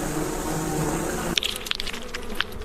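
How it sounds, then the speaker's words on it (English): Bees buzz in a steady, dense drone for over a second, then the hum cuts off into scattered sharp clicks and small knocks close by. "And the bees."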